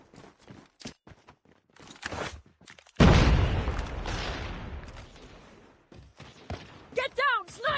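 A frag grenade explodes in a first-person shooter game with a sudden loud blast and a long rumbling decay, preceded and followed by scattered footsteps, clicks and short voice lines.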